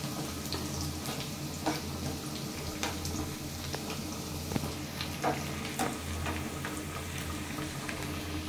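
Chopped onion and garlic fry in a pan with a steady, close sizzle and faint crackles and pops throughout, no voices.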